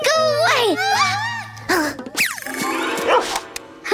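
A cartoon dog gives a quick bark amid animated character voices and an exclamation in a playful children's scene, all close and loud.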